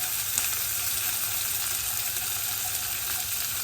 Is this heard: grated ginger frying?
yes